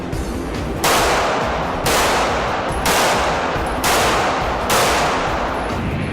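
Pistol shots fired in a string at an IDPA backup gun match, five loud sharp reports about one second apart, each with a long ringing decay, close and with no talk.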